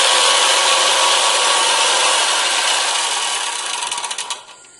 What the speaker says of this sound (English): I don't actually have too much experience with radial arm saws